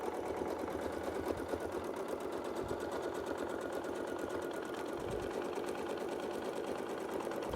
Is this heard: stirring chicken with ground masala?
no